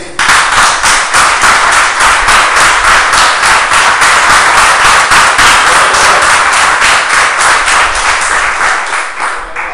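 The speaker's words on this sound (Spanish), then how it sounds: "Un aplauso a Cristo." Sustained applause from a church congregation, dense steady clapping that fills the space for the full length without a break, loud and close, with no talk over it.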